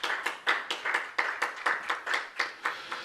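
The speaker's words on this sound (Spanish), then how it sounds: "Démosle un aplauso al Señor Jesucristo esta mañana" A church congregation claps together in a brisk, steady rhythm, a dense run of roughly fifteen hand claps in three seconds, moderately soft in a reverberant room with no talk over it.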